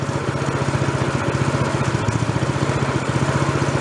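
A free snow blower engine runs steadily after repair, its small motor putting along in a fast, even, close-up chug while it warms up, with no talk over it.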